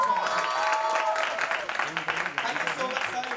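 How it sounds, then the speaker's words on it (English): A crowd applauds at Mithibai College's annual Kshitij festival, with moderate, busy clapping mixed with raised voices and cheering from the audience. "Can we have a huge round of applause, ladies and gentlemen?"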